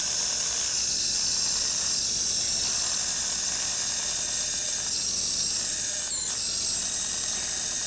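A surgical bone reamer cuts bone during toe surgery, giving a continuous high-pitched whirring hiss that holds steady at close range.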